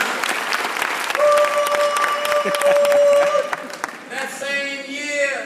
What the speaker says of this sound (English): Give him a round of applause for Reverend Johnson